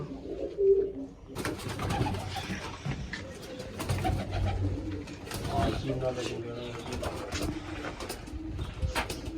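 Pigeons coo in soft, low repeated calls amid a busy background where people talk over them throughout.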